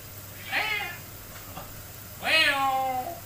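Two distinct cat meows sound close by, a short one followed by a longer, drawn-out call after a brief pause, over a quiet indoor background.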